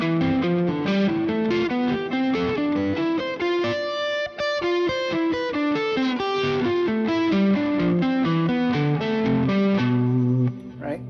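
Distorted electric guitar plays a scale sequence in intervallic sixths, pairs of crunchy notes stepping steadily up and then back down, loud and close, with a brief pause near the end and no talking over it.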